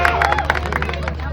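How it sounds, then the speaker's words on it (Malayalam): An audience clapping at a family event, a brief burst of close, loud hand claps mixed with crowd chatter and voices. "Julie is out. നല്ലൊരു കൈയടി."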